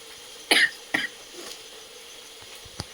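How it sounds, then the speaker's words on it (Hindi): Two sharp coughs close by from frying spice fumes, one right after the other, followed by a quieter throat sound and a faint tap. "इतना तेज खांसी आ रही है"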